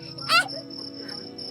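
Crickets chirp in a steady, continuous high trill that runs through the whole stretch, with a brief louder burst of another sound near the start over a low background hum.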